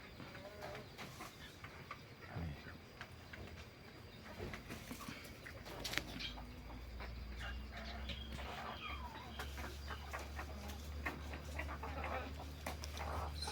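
Junglefowl cluck and call in a busy outdoor setting, with scattered sharp bird calls over a steady low hum.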